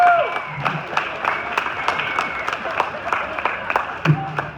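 Crowd applause for the stars of a hypnosis stage show, sparse, distinct claps at a steady pace from a small audience, moderately loud and close throughout.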